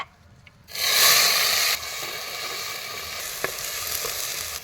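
Mustard seeds and ginger garlic paste hit hot peanut oil with a sudden loud sizzle that settles into steady frying, with a few faint pops and scrapes. Nobody talks.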